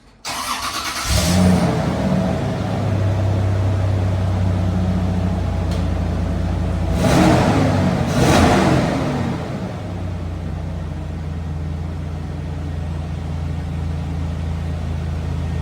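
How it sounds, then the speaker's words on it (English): Holden Jackaroo engine with its stock exhaust cranks over at about one second and settles into a steady, close idle, with two brief louder surges partway through before dropping back to an even rumble. "we'll drop it down and start it up and see how it sounds stock"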